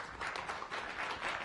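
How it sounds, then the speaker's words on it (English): Short burst of audience applause at a science cafe event, a close, continuous patter of many hands clapping. "Let's give Greg a round of applause"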